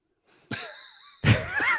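Two short, close coughs, the second harsher and louder, with a brief pause between them.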